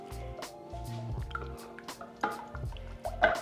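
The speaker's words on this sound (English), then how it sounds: "Stirry stir." A spoon stirs sauce for mango sticky rice, making soft wet squishes and small liquid drips in an uneven rhythm, close and fairly quiet.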